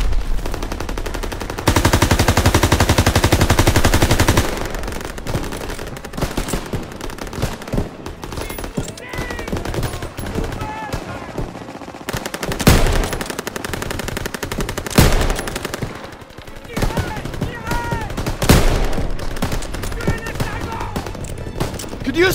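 Machine gun fire in the World War II shooter Call of Duty: WWII rattles in sustained loud bursts with scattered louder shots, amid battle noise and shouted voices.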